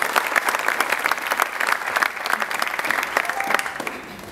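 Crowd at a sports team presentation event applauds the twenty members of an under-23 squad, loud, close, crisp clapping with distinct individual claps standing out, continuing steadily throughout.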